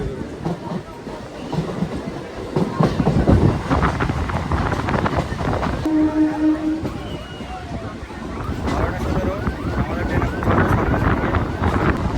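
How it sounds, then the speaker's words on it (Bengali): A Lalgola–Sealdah MEMU passenger train rumbles into a station, its steady rolling clatter joined by a brief horn and wind buffeting, while a person talks nearby. "মেমো প্যাসেঞ্জার কিন্তু ঢুকছে বহরমপুর কোর্ট থেকে ছাড়লো"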